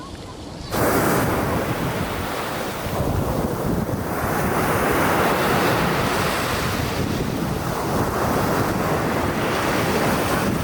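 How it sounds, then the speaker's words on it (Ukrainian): Sea waves wash steadily onto the beach at Odesa, a loud continuous surf roar with swelling breaks and heavy wind buffeting the microphone, no voices over it. "Водичка тепла, чиста, хороша, волни прекрасно."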